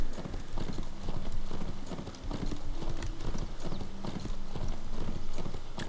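Horse hooves clip-clopping in the riding video game Abenteuer auf dem Reiterhof 5, a brisk, continuous rhythmic hoofbeat with a brief dip partway through and no talking.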